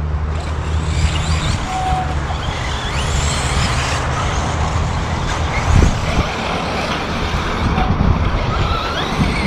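A Tekno ET48 RC truggy runs at Lake Chollas, its motor a steady broadband drone mixed with heavy wind rush on the microphone, with a brief louder surge midway.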